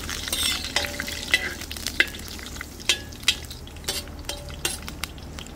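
Gurumba cooking in a pan over a fireside chulha at sunset, a low sizzle with repeated sharp metallic clinks and scrapes of a utensil against the pan, close and irregular.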